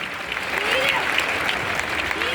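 An audience claps steadily at an Arya Samaj event in Delhi marking the 150th foundation day, a dense continuous patter of many hands with a faint voice heard over it.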